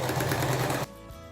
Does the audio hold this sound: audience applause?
no